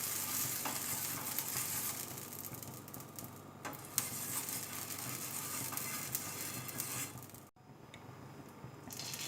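Oil sizzling on a hot dosa tawa, a steady broadband crackle and hiss that carries on throughout with a brief dip near the end, no voices.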